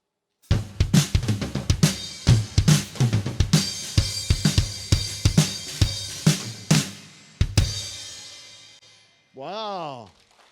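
A drummer plays a solo on a drum kit, a fast run of sharp hits and fills with crashing cymbals that ring out near the end. A voice briefly exclaims after the playing stops.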